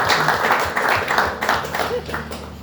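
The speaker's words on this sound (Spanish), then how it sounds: "Vamos a un fuerte aplauso." Audience applause at an evening meeting fills the whole stretch with dense, steady clapping, loud and close, with voices mixed into the crowd noise.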